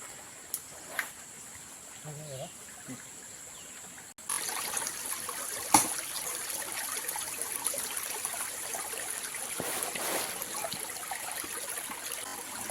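After a quiet start with a few faint sounds, a mountain forest stream's continuous gentle rush of flowing water sets in and holds steady.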